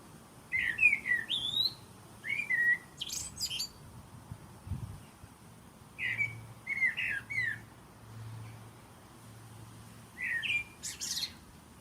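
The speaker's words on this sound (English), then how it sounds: "And that's a blackbird." A recorded blackbird sings clear, fluting phrases in short bursts separated by pauses, with a low hum running underneath throughout.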